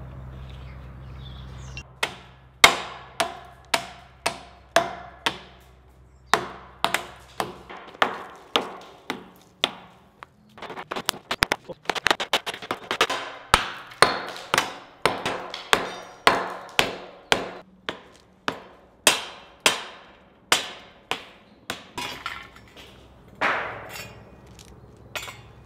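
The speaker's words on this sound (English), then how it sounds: "I'm gonna be taking out the rebar that we used over the top of the vent" Steady hammer blows on steel rebar over a vent in an old WW2 concrete bunker, sharp metallic strikes landing one by one at an uneven pace, with a quicker flurry partway through.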